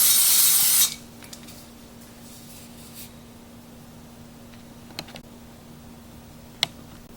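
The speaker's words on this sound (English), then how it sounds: "Just gonna spray out the bottom just because." Brief hiss of cooking spray into the bottom of an air fryer basket, lasting under a second, followed by near-silence with a few faint clicks and taps.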